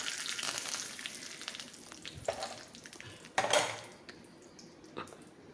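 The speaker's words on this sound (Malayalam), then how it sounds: "കടുകും ഉഴുന്നുപരിപ്പാന്ന് വറുത്തിടുന്നത് കറിവേപ്പിലയും കൂടെ ചേർത്ത് വറുത്തിട്ടു" Mustard seeds and urad dal frying with curry leaves in hot oil for a Kerala jackfruit dish, a soft crackling sizzle with scattered pops, light stirring and a few metal clinks of utensil on pan.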